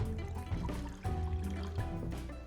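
Half a cup of water is poured into a pot to make sugar syrup for a lemon-flavored dessert, a close, trickling splash that fills in short bursts over a kitchen background.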